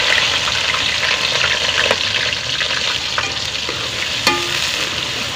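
Onions fry in hot ghee with a steady, close crackling sizzle that stays constant throughout, dotted with a few faint clinks and stirring scrapes.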